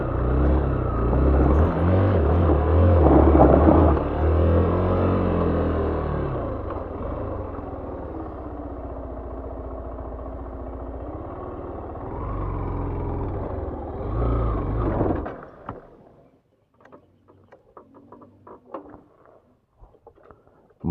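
A motor scooter labors over a rough, rocky road near Sariaya, Quezon, its engine droning loud and close for about fifteen seconds before the sound cuts down to scattered knocks and rattles.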